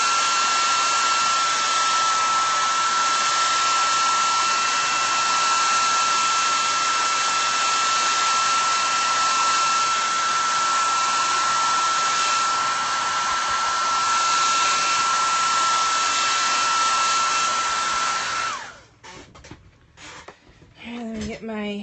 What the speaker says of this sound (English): I dry this real fast and then I'm going to do the sky.